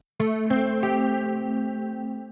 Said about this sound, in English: And then we add a minor seventh, and we get this sound.